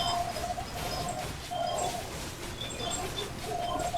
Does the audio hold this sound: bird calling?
yes